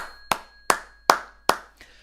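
Hands clap in celebration, five sharp, evenly spaced claps about a beat apart, the last one softer, close and alone without any talk.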